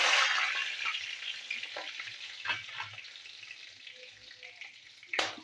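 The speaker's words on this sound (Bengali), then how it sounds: "তো আমি সব কিছু একসাথে দিয়ে দিচ্ছি তেলেতে" Bay leaves and garam masala sizzle in hot oil for a fish korma, a soft, steady frying hiss. A few light stirring knocks break through it, and a sharper burst comes near the end.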